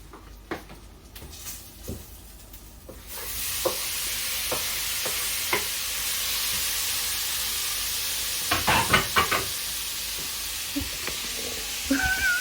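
Tomatoes and onions fry in a pan for curry, a steady sizzle and hiss swelling after a quiet start, with intermittent stirring scrapes and clinks close by and no talking.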